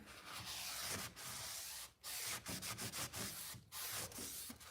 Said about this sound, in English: let me just wipe down here